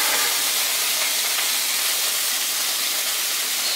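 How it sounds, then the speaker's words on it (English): Corned beef brisket fries in a greased pan, giving a steady, loud, bright sizzle that holds evenly from start to finish with no voices. "Sizzle in the pan!"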